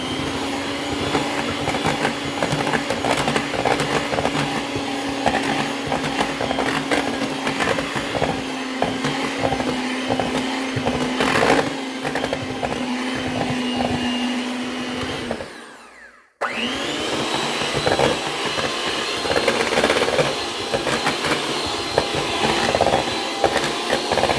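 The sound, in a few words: electric hand mixer mixing banana cake batter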